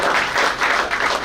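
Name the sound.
audience applause at a school reunion gathering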